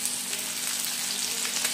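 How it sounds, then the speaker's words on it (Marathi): Malvani-style fish pieces frying in hot oil in a pan, a steady close bright sizzle with crackling spatters throughout, no talking. "आता आपण ह्याला फ्राय करू"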